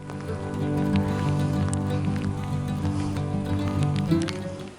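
Steady rain patters on a surface at Spirit Sands, a desert area in Manitoba, Canada, with scattered sharper drips, a dense continuous hiss and low background hum.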